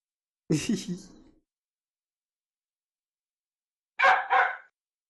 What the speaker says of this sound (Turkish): köpek görüyor ona havlıyor